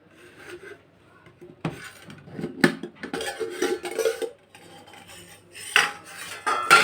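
A lid comes off a cooking pot of steamed chicken with metallic scrapes and clanks, a few sharp knocks and rubbing noises, close and fairly loud, with no talking.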